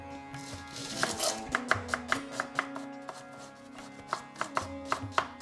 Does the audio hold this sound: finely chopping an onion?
yes